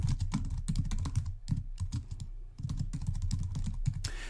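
Code being typed in Dart on a computer keyboard: quick, close, irregular keystrokes clattering steadily, with a short pause midway before the typing picks back up.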